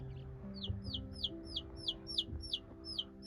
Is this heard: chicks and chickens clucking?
yes